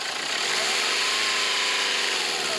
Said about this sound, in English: Warm the engine up until the thermostat opens.